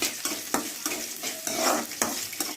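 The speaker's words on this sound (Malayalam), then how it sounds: "ഇപ്പോൾ നമ്മൾ തേങ്ങാക്കൊത്തിടുകയാണ്. ഇഞ്ചിയും വെളുത്തുള്ളിയാണ് ഇടുന്നത്. നമുക്കിത് മൂക്കേണ്ടതുണ്ട്, ഇളക്കിക്കൊണ്ടിരിക്കണം" Coconut pieces with ginger and garlic frying in a pan, hot oil sizzling steadily while a spoon stirs and scrapes in a loose repeating rhythm, close and fairly loud.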